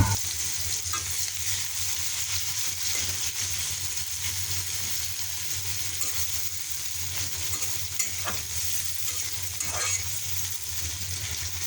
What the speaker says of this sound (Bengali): কড়াইয়ে তেল গরম হয়ে গেছে পেঁয়াজগুলো লাল লাল করে ভেজে নেব